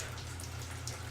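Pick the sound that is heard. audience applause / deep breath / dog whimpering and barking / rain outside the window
rain outside the window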